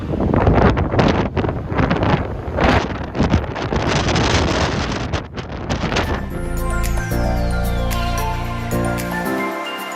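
Strong wind buffeting the microphone on a steep mountain hike, loud rough roaring gusts near the mic that fade midway into a quieter steady background with faint tones.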